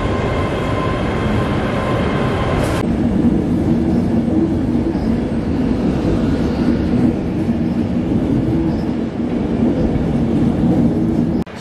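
An LNER Azuma train on a driver training trip from Edinburgh fills a large station at Glasgow Central with a loud, continuous rumble and hum that stays steady throughout, while a high tonal whine cuts off early.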